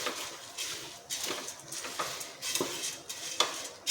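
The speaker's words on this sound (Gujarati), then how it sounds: "હવે આપણે મમરા લઈ લીધા છે, ઉપરથી આપણે સેવ લઈ લઈશું, ને બધું જ આપણે સારી રીતે મિક્સ કરી લઈશું।" A spoon scrapes and stirs puffed rice with garlic sev in a pan over medium gas, giving soft repeated rustling strokes and light metallic scrapes, close and fairly quiet.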